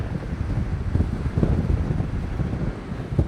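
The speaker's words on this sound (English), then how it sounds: "A little breezy." Steady wind buffets the microphone outdoors beside a river bridge at Weitchpec, California, a loud low rumble with gusty swells and no voices.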